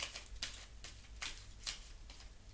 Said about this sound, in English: So I like to just continue shuffling and see what comes out.